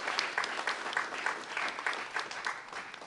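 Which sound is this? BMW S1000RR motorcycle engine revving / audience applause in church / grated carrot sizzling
audience applause in church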